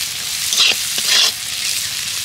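Peanuts with a little sugar stir-fried in a pan, a continuous bright sizzle broken by a couple of louder scraping stirs, close and without speech.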